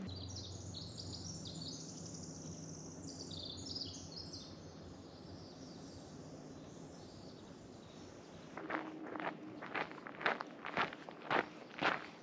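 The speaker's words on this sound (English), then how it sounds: "the birds are also singing" High chirping birdsong twitters in an old-growth forest on the Oregon coast over a steady outdoor hiss, followed by crunching footsteps walking nearby on a hiking trail.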